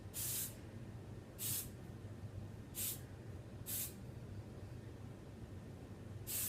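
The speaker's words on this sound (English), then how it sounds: "The rest we'll place with some spray" Five short, sharp hissing bursts of an aerosol hair spray, spaced about a second apart, close up against a quiet background.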